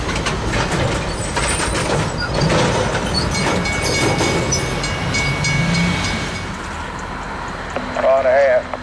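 A freight train rolls slowly along a siding track, a steady broad rumble of wheels and cars running near and continuously, with a faint squeal and a brief tonal warble near the end; voices are heard in the background.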